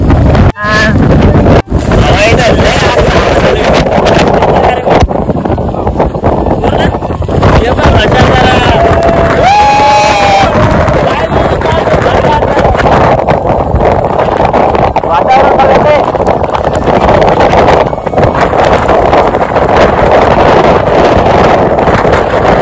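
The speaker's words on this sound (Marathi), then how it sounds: "हवा इथं लय जास्त झाले" Strong wind buffets the microphone at a hilltop waterfall viewpoint near Bhandardara, a loud continuous roar with gusts throughout while people talk over it.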